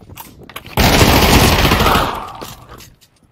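Gunfire in the VR game Pavlov VR: a loud, sustained burst of automatic fire erupts abruptly and then tails off into quiet, with faint clicks before it.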